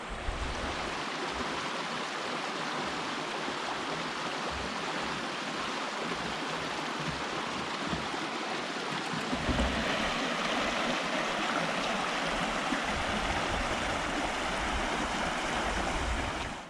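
A river in the Cairngorms, Scotland rushes steadily with a broad, continuous wash of water, close and unbroken for the whole stretch, with no voices.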